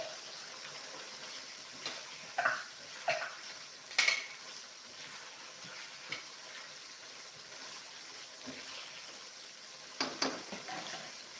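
Blended spice paste is sautéed in a pan, with quiet, intermittent scrapes and clinks of stirring over a faint sizzle.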